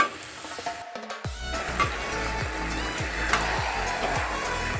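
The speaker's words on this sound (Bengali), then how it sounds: "আর এর মধ্যে কিছু আমি কাঁচা পেঁয়াজও বেটে দিয়েছিলাম এর ভালো করে কষিয়ে নেব" Onion paste and spices sizzle in hot oil in a pan, with the fish added in, while a spoon stirs with a regular scraping rhythm. The frying hiss is steady and close, and no one talks.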